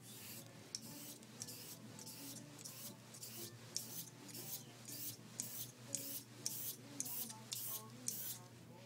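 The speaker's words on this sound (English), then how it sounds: "now I'm going to set the bevel on this 2000 grit Sharpening" A knife blade is drawn in steady forward-only strokes across a 2000 grit whetstone, each pass a close, soft rasping scrape repeating in an even rhythm, with no voices.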